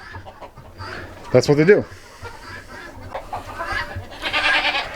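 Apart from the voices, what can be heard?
free range chickens clucking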